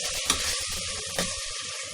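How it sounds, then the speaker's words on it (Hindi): Tomatoes frying in a pot with ginger, garlic and meat, a steady broadband sizzle with two brief louder stirring bursts, close and continuous with no talk. "अभी ये टमाटे डालेंगे और टमाटे को अच्छे से भूनेंगे अदरक लहसुन के साथ।"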